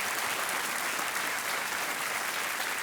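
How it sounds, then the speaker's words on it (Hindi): Studio audience on the KBC game show breaks into steady, dense applause after a contestant wins 12,50,000 rupees, an even wash of clapping with no pauses throughout. "तालियों के साथ इनका अभिनंदन"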